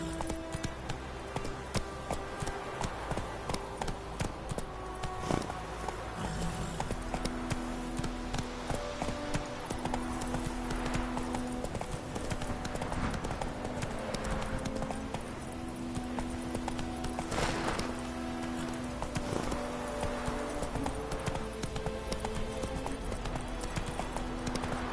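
Roach, a horse in The Witcher 3, clip-clops steadily at a brisk, even pace for the whole stretch, close and continuous, under a layer of game music and ambient sound.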